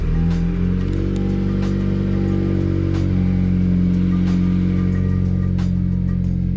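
A 2020 Honda Civic Si engine fitted with a PRL Cobra cold air intake runs loud and close under an open hood, a steady tonal drone with a slight rise in pitch partway through.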